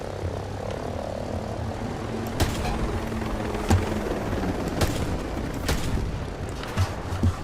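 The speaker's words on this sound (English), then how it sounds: "There's a helicopter." A helicopter in the Ghost Recon video game, a low steady rotor drone running throughout, overlaid with sharp intermittent gunshot-like cracks and bursts.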